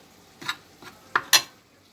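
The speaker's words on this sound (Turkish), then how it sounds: "Karıştırıyorum" A spoon scrapes and clinks against a bowl while stirring flour and salt, making four short, brisk strokes that sound close, with quiet between them.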